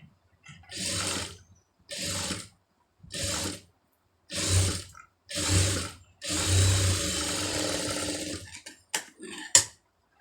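Sewing machine stitching along the folded lining of a blouse, running in seven or eight separate bursts, each lasting about a second with short pauses between, and the last burst running longer, followed by a few faint clicks.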